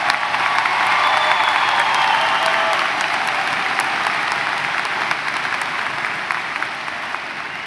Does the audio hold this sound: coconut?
no